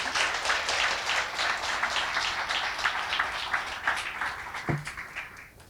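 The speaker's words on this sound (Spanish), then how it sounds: "Les pido un aplauso" A university auditorium audience applauds steadily between panels at a World Environment Day celebration. The dense, even clapping holds at moderate loudness and begins to thin in the final second.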